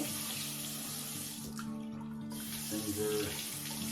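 Water runs steadily from a newly installed bathroom faucet into the sink, a close, continuous splashing flow with a brief shift in tone as the spout is moved.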